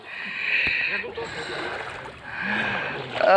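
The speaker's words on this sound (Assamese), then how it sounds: "নাও এনেকৈ বৈঠা মাৰি পাইছে নে কেতিয়াবা" An oar dips and pulls through the water of a lake as a wooden boat is rowed, with soft swishing strokes close by and faint voices in the background.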